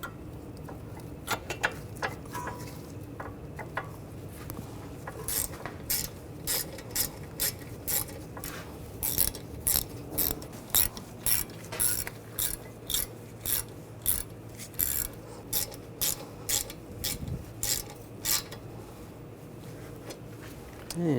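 A torque wrench tightens brake caliper bolts on a 2009-2017 Volkswagen Tiguan, producing a close, steady run of regular ratchet clicks for most of the stretch, with faint background hum.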